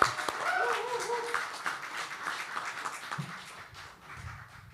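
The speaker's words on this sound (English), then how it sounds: "I think we should applaud her." An audience claps steadily in dense, even applause that slowly fades, with a voice briefly audible near the start.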